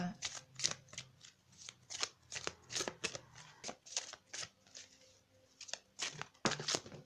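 A deck of oracle cards shuffled by hand in a series of quick, crisp riffling bursts, fairly close and steady in rhythm until a card drops out, with faint room background.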